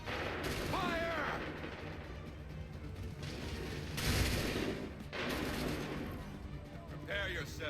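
Several muffled musket volleys and battlefield mechanisms in Assassin's Creed 3 boom in broad bursts, with shouted commands and voices in between over a constant rumbling background.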